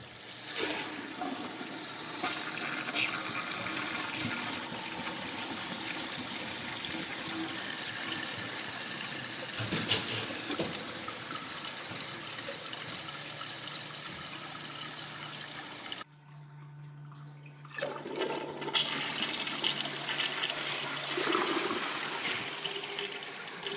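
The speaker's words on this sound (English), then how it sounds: "That was a good flush cycle" A toilet flushes just after a rusty drain cable has cleared a stoppage: a steady rush of swirling water runs for about fifteen seconds, breaks off briefly, then resumes as a refilling trickle.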